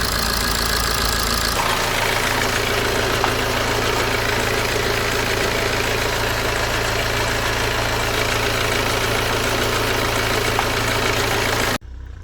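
A BMW 120d diesel engine idles steadily with a rough, uneven vibration and a low rumble, shaking from the flywheel, running continuously up close before cutting off abruptly at the end.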